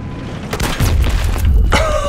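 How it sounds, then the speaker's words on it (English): A big explosion in the video game Battlefield 3 booms out loud and close, a heavy low rumble that swells and lingers, with a sharp crack and a ringing tone near the end. "That was a giant explosion."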